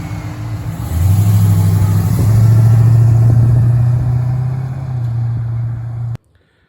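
A 1969 Dodge Dart fitted with a modern 5.7 litre Hemi V8 rumbles loudly nearby, its deep engine note rising as it revs and accelerates, holding steady, then cutting off abruptly.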